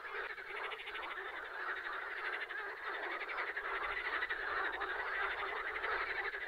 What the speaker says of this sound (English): Are those frogs?